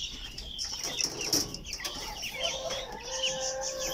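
Backyard chickens clucking and murmuring close by, with a brief flutter of wings, short calls and a few drawn-out tonal notes over a low outdoor background; no talk.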